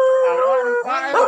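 Hunting dogs on a wild pig hunt in Solok, West Sumatra, let out a loud, sustained howl up close, breaking briefly before another rising howl and yelping cries.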